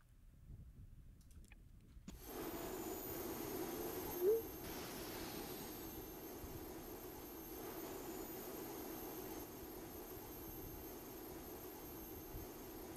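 Four jet engines on a long rocket in the space game Next Space Rebels, a steady loud roar with hiss that starts abruptly and holds continuously, with a brief click partway through.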